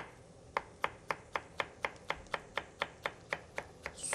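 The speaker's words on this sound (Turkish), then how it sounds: "Ondan sonra da ufak ufak doğrayacağız." A knife chops vegetables on a cutting board in a steady, even rhythm of about fifteen crisp strokes, close and fairly loud, with no talking.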